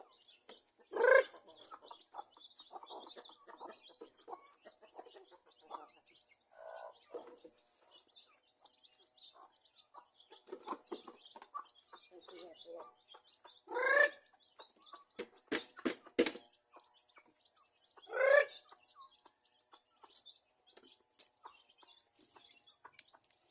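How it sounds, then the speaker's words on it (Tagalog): Native chickens cluck and chicks chirp in a farmyard, with several loud drawn-out hen calls standing out above soft scattered peeping and a faint steady background hum. "native chicken."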